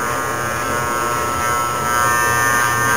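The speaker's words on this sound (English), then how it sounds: "this is an electric shaver" An electric shaver buzzes steadily and close up while shaving, a dense continuous hum that gets slightly louder toward the end, with no talking over it.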